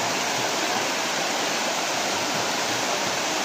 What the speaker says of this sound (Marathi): छान खळखळत वाहत जाणारं पाणी आहे